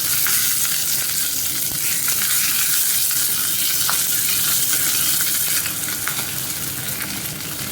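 Curry leaves and red chili fry in hot oil for roasted gram chutney, giving a loud, steady crackling sizzle with scattered pops, close by and without talk.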